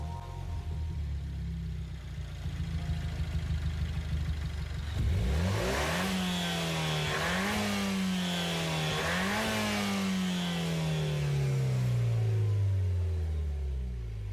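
A Peugeot RCZ GT engine in a video game, tuned to 650 PP, idles, then revs hard through several rising gear pulls, each climb dipping briefly before surging again, loud and close.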